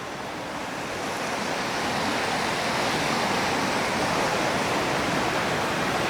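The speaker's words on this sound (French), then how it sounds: "il y a l'eau qui coule" Steady rushing of running water flowing through woods at night, a continuous broadband wash that swells slightly in the first seconds and then holds constant and fairly close, with no voices over it.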